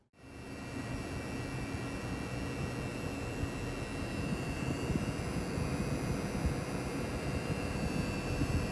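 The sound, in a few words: coil whine from Gigabyte RTX 3070 Gaming OC graphics card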